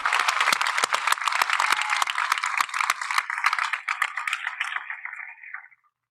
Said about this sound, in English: So let's give our band and choir another round of applause.